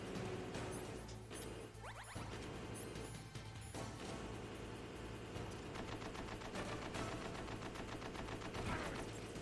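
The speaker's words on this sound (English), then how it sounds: "you can get really messed up by the machine gun" Boss machine gun fire in the Metal Gear Solid video game: dense, rapid bursts of automatic shots with crashing impacts, loud and continuous throughout.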